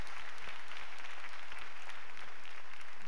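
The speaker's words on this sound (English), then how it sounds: "Come on, clap your hands for them." A church congregation at a home-going funeral service claps steadily in praise, a dense, continuous burst of applause filling the room throughout.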